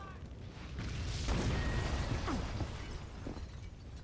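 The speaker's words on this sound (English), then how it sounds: "building's blowing up." A building rigged with explosives blows up in the shooter game Max Payne 2, a sustained roar of blasts with shattering debris and crashing rubble, loud and close for several seconds.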